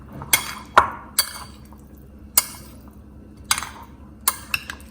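A spoon clinks sharply against a bowl while paneer masala ingredients are mixed, about seven distinct metallic taps spaced irregularly over a soft background, close and without talk.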